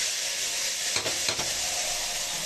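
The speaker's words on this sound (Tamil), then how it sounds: "இப்போ வெங்காயம் நல்லா வதங்கிடுச்சு" Onions fry in a pan for kara kuzhambu, giving a steady, even sizzle with a couple of soft stirring scrapes near the middle and no voices.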